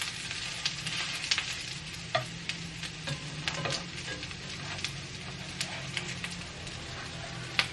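A chickpea patty fries in oil in a pan, giving a steady close sizzle dotted with irregular pops and crackles throughout, with no talking.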